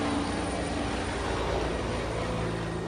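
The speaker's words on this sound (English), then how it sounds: "A marine chopper just went across, and it was basically along the tops of the dunes." A military Marine helicopter flies low overhead along the tops of coastal dunes, a loud steady roar of engine and rotor filling the whole short stretch.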